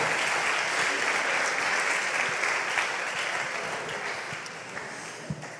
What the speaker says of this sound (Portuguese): Você pode se levantar e dar uma salva de palmas ao Senhor, então?